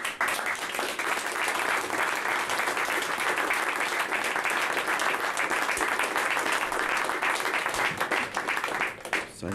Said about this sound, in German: Ein langer Vorschussbeifall.